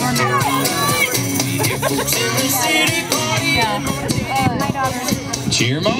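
A crowd cheers and shouts encouragement at runners during a timed range event, with dense, continuous loud voices and overlapping calls that never let up.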